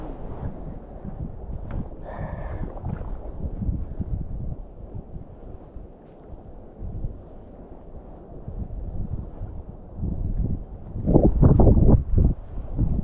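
Wind blows hard across the microphone beside a trout stream in the Ecuadorian Andes, a continuous low rumbling buffet that eases briefly midway and then gusts up stronger near the end.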